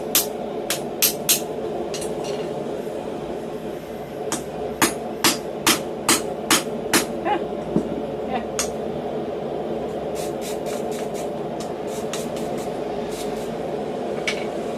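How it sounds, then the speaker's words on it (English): A small hammer taps a forged metal edge in quick bursts of sharp, ringing strikes, several in a row, then pauses and resumes, close and clear over a low hum, during blacksmith slitting and drifting. "Just using this small hammer to give it"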